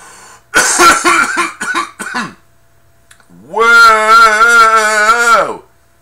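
A close burst of rapid, rough coughs after a hit from a new smoking bowl, followed by a pause and then a long, strained groaning exhale.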